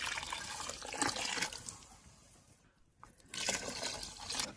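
Measured water for mushroom biryani pours into a cooking pot in a steady splashing rush, pausing briefly in the middle before resuming, close and fairly loud.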